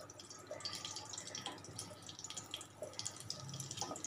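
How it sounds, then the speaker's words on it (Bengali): Cumin seeds crackling in hot oil in a kadai while tempering for a Bengali tilapia fish curry, a steady close hiss with fine scattered pops and no talking. "জিরে ফুটতে শুরু করে দিয়েছে।"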